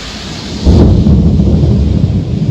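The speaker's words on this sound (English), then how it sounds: "This is the third time of the rain. Now getting more intense lightning." A thunderstorm with intensifying lightning opens with steady rain hiss, then a heavy rumble of thunder breaks in and rolls on loudly over the downpour, close and powerful, with no voices.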